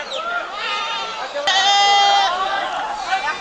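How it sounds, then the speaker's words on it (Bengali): Local native goats bleat repeatedly at a busy outdoor goat market, loud and close, with a long drawn-out bleat in the middle and chatter around. "কেমন সুন্দর ছাগল"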